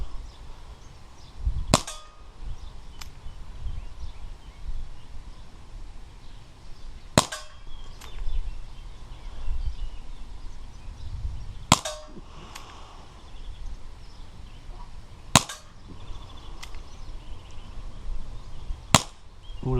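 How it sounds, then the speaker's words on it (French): A Dan Wesson 6-inch 4.5mm CO2 air pistol fires four sharp, snappy shots spaced several seconds apart, each a crisp close crack over a quiet room background. "là je vais faire les tirs à bras vif"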